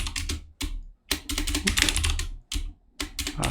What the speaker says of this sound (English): Having some typing issues.